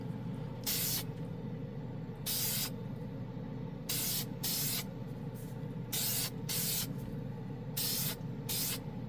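Several short bursts of Dupli-Color primer from a spray can, each a bright hiss lasting about half a second, over a steady low hum in the background.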